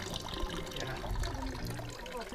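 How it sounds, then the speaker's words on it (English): A small trickle of water at the southernmost source of the Nile in Burundi, a faint, steady, close-up gurgling dribble with no other sound. "So it's a very small trickle"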